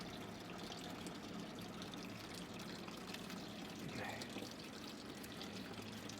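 Coolant drains from a BMW E30 engine after the drain plug is pulled, a faint, steady watery trickle under low background noise.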